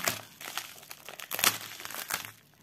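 Plastic packaging crinkles and crumples up close in bursts of sharp rustling as a hard-to-open cross-stitch unboxing parcel is worked open, with no voices over it.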